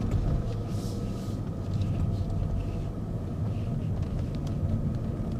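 Low droning road rumble from a BMW 740 with a faulty differential while driving, a steady loud hum that continues evenly throughout.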